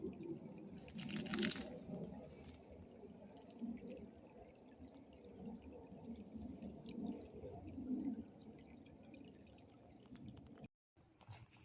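Creek water trickles and splashes steadily over stones, a close, continuous burble with a brief louder pour early on, no voices.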